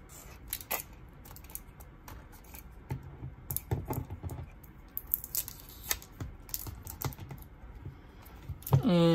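Tape being pulled and torn off a football card care package, heard as quick scratchy rips and crinkles in irregular bursts at close range, ending in a louder longer tear.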